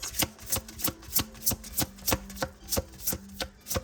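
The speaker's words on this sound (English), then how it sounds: "Sorry if the shuffling is loud." Tarot cards are shuffled in a steady, brisk rhythm of about a dozen crisp riffling bursts, close and fairly loud, with no talking.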